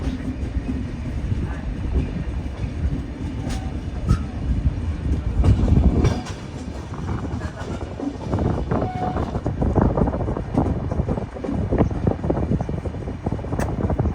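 The Millennium Express, hauled by a WDP4 locomotive, rumbles past steadily and loudly, with deep continuous rolling noise and rattling carriages throughout.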